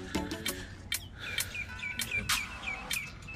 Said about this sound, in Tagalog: Ibon ang maririnig mo.